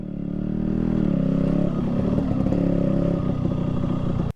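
A Yamaha RX-100 motorcycle is ridden on a hill road, its engine a close, steady two-stroke drone that shifts pitch as it changes speed before cutting off abruptly, with no talking.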